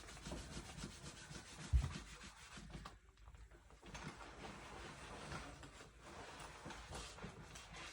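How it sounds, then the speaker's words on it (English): Leather being wiped with Griot's Garage 3-in-1 leather wipes: soft, steady rubbing and scrubbing strokes, close and fairly quiet, continuing throughout with a short pause midway. "we just used the leather 3-in-1 wipes"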